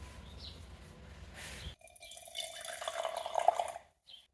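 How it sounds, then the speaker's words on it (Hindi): Water is poured into a glass, a quiet trickle with a rising pitch lasting a couple of seconds after a stretch of soft background noise, with no voices. "अब इसमें हम थोड़ा एक्स्ट्रा पानी ऐड कर लेंगे ताकि हमें हाइड्रेशन भी मिल जाए."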